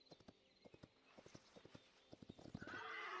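Horse in the video game Hytale: steady, close clip-clop of hooves with a rhythmic trot that quickens, ending in a loud whinnying neigh.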